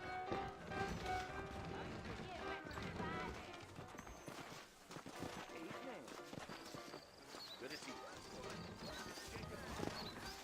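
Horse hooves clip-clop and a horse whinnies in the video game Red Dead Redemption, amid a busy mix of music and voices, steady and fairly loud throughout.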